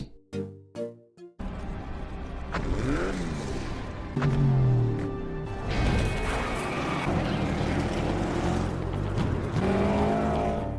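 Race cars, including Herbie, compete in a movie race. Engines rev and whine past with rising and falling pitch, and there are thuds and crash-like impacts over continuous loud racing noise, with a few sharp tones at the start.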